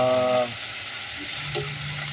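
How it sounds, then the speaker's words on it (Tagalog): Garlic sautéing in a pan as the base for pork adobo, a short sizzle with stirring, preceded by a brief tonal hum that drops away. "Pakakapitin muna yung ginisang bawang."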